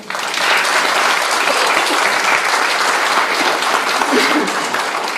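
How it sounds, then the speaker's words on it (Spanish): An audience at an anniversary forum on the city gives a speaker a strong, steady round of applause, dense and loud from start to finish with no talking. "Un fuerte aplauso para él, por favor."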